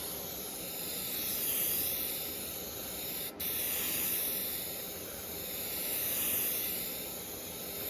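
Steady broadband hiss of a spray gun laying lacquer finish onto an old Grunow Teledial radio cabinet, continuous and close, swelling slightly with even strokes and one brief break.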